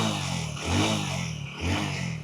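A 125 cc Honda Shine motorcycle engine revs up twice in short bursts over a steady idle, close by, with no talking.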